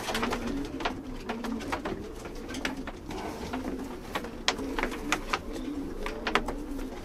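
Jansen-breed pigeons coo in a loft, a steady low rolling murmur from several birds overlapping, with sharper wing flutters and scuffles popping through now and then; no one speaks.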